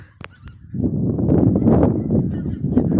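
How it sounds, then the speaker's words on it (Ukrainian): A flock of geese in flight honks loudly in a dense, overlapping chorus, calling continuously after a couple of sharp clicks at the start. "Гуси полетіли."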